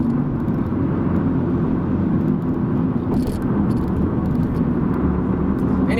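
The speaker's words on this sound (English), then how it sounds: "I'm just kind of cruising on the highway at this point" A 1998 Honda Accord cruises on the highway, a steady engine drone and dense tire and road rumble heard from inside the cabin, with a brief airy swish partway through.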